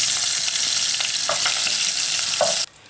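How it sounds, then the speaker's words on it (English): Salted tilapia (koobi) sizzles loudly in hot oil, a dense continuous frying crackle with a couple of soft clinks, then drops off sharply as the fish is lifted out. "I left it on the fire for 2 minutes and now I'm taking it out from the oil."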